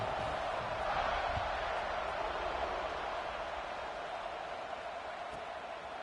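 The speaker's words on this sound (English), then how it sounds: "this crowd is buzzing after that last score" A football stadium crowd keeps up a loud, steady roar and buzz after a touchdown kick return, a dense wash of noise with no pauses throughout.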